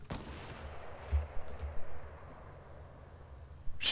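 Gunfire in Fortnite Battle Royale: a few muffled, distant shots thud against a low rumble, with a sharper burst at the very end.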